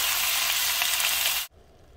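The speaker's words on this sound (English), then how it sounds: "I'm adding some olive oil, about a tablespoon. I'm gonna add my beef. And I'm gonna cook that up." Ground beef sizzles loudly in olive oil in a large skillet, a dense steady hiss that runs for about a second and a half and then cuts off abruptly, leaving near quiet.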